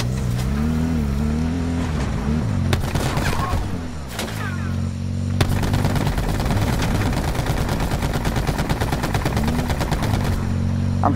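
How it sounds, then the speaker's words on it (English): Rapid automatic gunfire from the Black Ops 4 video game, a dense unbroken stream of shots running loud through the second half, with an engine-like drone and scattered shots earlier. "I'm shooting at him."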